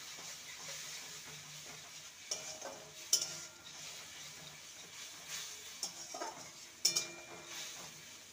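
Spice masala with sugar and salt being stirred and fried in a pan, a soft steady sizzle with occasional scraping clinks of a spoon against the pan.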